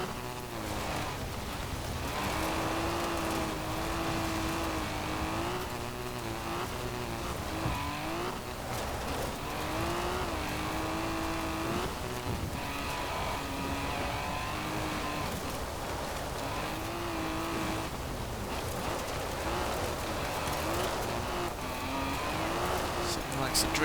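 A 1979 Triumph TR7 Roadster in Forza Horizon 4 drives over rough off-road surfaces, its engine droning loudly and continuously with rising and falling revs, under someone talking.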